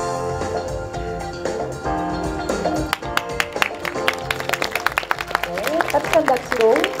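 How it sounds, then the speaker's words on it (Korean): Warm applause at a film festival closing ceremony as the district mayor takes the stage, scattered claps building over music, with a host speaking over the clapping. "따뜻한 박수로 구청장님을 맞아주고 계십니다"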